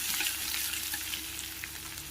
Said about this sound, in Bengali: রসুন বাটা দিয়ে ভালোভাবে ভেজে নেব রসুনটাকে